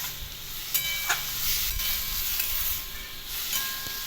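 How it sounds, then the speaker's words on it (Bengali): Spice masala and fried papaya are sautéed in a pan: a faint, soft sizzle and hiss, broken by a few quick scrapes and clacks of a spatula stirring at close range. "তো প্রায় আমার মশলাটা কষা হয়ে গেছে"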